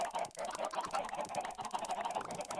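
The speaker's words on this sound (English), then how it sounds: "I need all you chickens to shut the hell up." Minecraft chickens cluck and squawk in a dense, continuous chorus, with repeated honking calls that stay fairly loud and carry no speech throughout.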